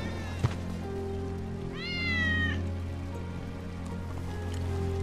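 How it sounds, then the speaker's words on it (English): A cat in the video game Final Fantasy VII Remake gives a single clear meow midway, heard over a steady low ambient hum with a faint patter like rain. "That's Wedge's cat."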